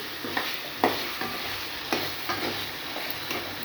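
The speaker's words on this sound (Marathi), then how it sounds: "दोन ते तीन मिनटं मी मच्छी मस्तपैकी मसाला फ्राय करून घेतली" Fish coated in masala fries in a pan, a steady close sizzle broken by a few clinks and scrapes as it is stirred, with no one speaking.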